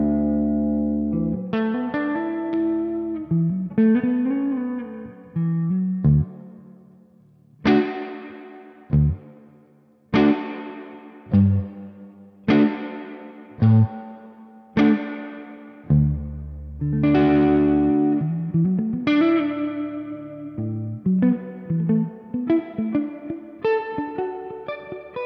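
Electric guitar through a Flamma FX20 pedal on its plate reverb setting, chords and single notes strummed and picked at varied pace, each ringing into a smooth reverb tail, played alone with no talking.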